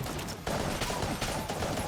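Gunfire in the video game Enter the Gungeon crackles in dense, rapid bursts of shots, loud and continuous with a short gap near the start.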